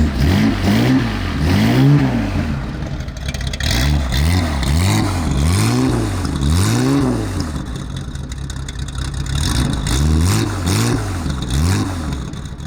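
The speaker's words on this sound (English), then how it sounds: "Your iconic sound, that straight six Jaguar on Webers." A Jaguar straight-six car engine on Weber carburetors is repeatedly blipped, revving up and falling back in steady rising-and-falling waves, loud and close with a raspy intake roar.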